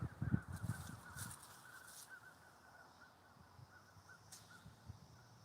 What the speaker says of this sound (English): Those sound like ravens.